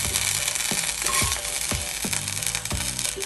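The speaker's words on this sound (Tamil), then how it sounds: "ஷாலோ ஃப்ரை பண்ணி எடுத்துக்கலாம்" Beef steaks shallow frying in a pan, a continuous bright sizzle with repeated sharp clinks and scrapes of utensils at a fairly regular pace.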